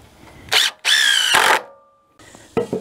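A power driver sinks 2.5-inch torque screws into wood rafters, giving two loud whirring bursts near the mic, with a brief pause between them and another short burst at the end.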